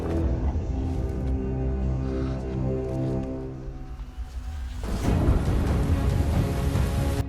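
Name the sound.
rain falling at night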